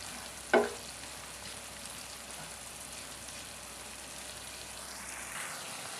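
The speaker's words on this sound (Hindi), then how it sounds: "3-4 मिनट अच्छे से भून लेंगे।" Black-eyed pea masala with tomatoes and green chilies fries quietly in a pan, a soft, even sizzle under one sharp knock near the start, no talking.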